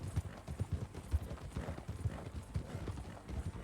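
Horse hooves clip-clop in the RedM roleplay game, a steady uneven run of soft thudding steps at moderate distance, with no talk over them.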